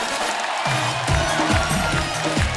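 A studio audience applauds and cheers for guests Ajay Devgn and Tabu on a Hindi comedy talk show. Dense, steady clapping and crowd noise fill the stretch, with a musical undertone beneath.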